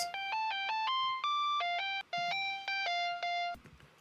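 A sliding synth lead in an EDM electronic pop production, its high end filtered away, steps through a bright, bell-like melodic phrase with pitch glides between notes. It plays alone and cuts off near the end.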